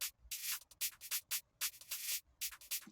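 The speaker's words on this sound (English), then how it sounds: "that's just your standard UK drill hi-hat pattern, just playing all the way along" Rapid UK drill hi-hat pattern with snares, programmed in FL Studio for a NY drill sample beat: crisp, bright ticks in a steady, stuttering rhythm with short gaps, played alone without voices.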